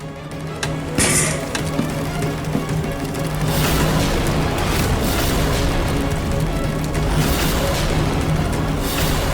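An indoor air conditioner unit breaks down with a sudden loud boom, followed by a sustained rough roaring rumble.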